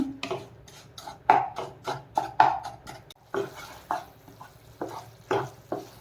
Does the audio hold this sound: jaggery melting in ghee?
yes